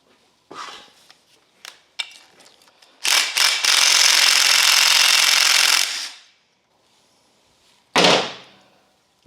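A power tool unbolts a pulley on a John Deere mower deck, with scattered clanks and ratchet clicks before a loud sustained whir of about three seconds, then a short final burst.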